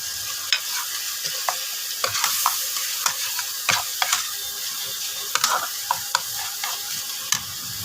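Ground coriander, cumin and chili powder fry in a pan for Kashmiri aloo dum while being stirred, giving a soft sizzle broken by scattered scraping clicks of the spoon.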